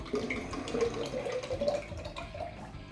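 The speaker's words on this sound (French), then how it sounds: "On rince la bouteille parce que la pulpe elle s'accroche au bord." Water runs and splashes at a tap as pumpkin pulp is rinsed out of a bottle, a soft, close, continuous trickle and slosh lasting a few seconds.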